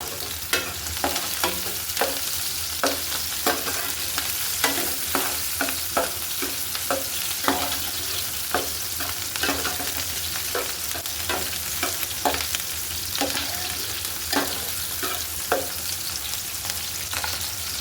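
Onions sizzle and fry in a pan while a spoon stirs them in steady, repeated scrapes for a fish dopeyaja, a close, continuous crackle with no talking.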